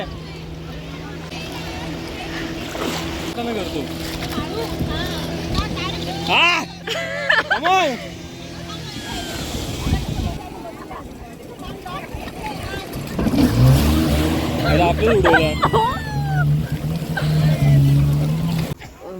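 A jet ski engine drones on open sea off Malvan beach, rising and falling with wind noise, while several people talk and shout nearby.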